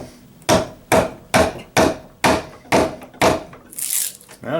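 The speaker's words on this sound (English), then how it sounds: "Let's see how this Mario hammer fares against chipping out some big old mortise pieces" A Mario hammer chops out a big wooden mortise while a Japanese planing beam is being built, landing eight sharp, evenly spaced blows close by, each with a quick decay.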